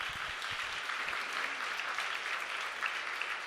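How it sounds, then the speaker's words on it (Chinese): A church congregation claps steadily for its Sunday school teachers during a Sunday service, a dense, even wash of applause from a crowded room, fairly soft and distant, with no voices over it. "好，我们也再次拍掌，我们也鼓励这些每一个礼拜辛苦的主日学老师。"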